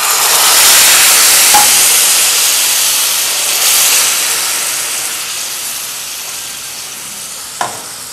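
Milk poured into a very hot pan of roasted vermicelli bursts into a loud, broad sizzle that slowly fades over several seconds, with a couple of faint clicks, no talking.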